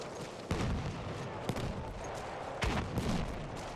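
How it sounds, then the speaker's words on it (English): Gunfire and ordnance in a 16 versus 16 Xbox One shooter match, repeated distant shots and explosive thuds over a dense battle rumble, with no clear speech. "Throwing a bunch of ordnance and ammo down that way"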